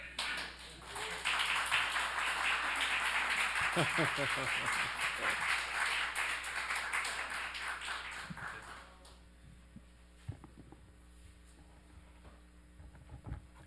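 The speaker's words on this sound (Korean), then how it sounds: "우리 한번 뜨거운 박수 준비. 자, 치시면 나옵니다." An audience in a lecture hall claps for an arriving lecturer, a dense wash of applause lasting several seconds before fading, with voices heard around it.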